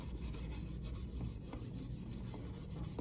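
Metal polish is rubbed by hand onto the oxidized trim molding of a 1972 Dodge D200 truck, a close, quiet, continuous scrubbing and rasping with a steady back-and-forth texture and no talking.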